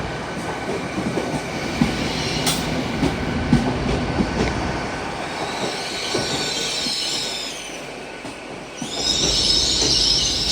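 Class 800 train running through Carlisle station on the West Coast Main Line, a steady rumble and clatter of wheels with brief squeals and hiss building toward the end, close by, no talk.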